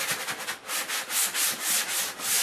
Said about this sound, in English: We just take the corner of our sanding sponge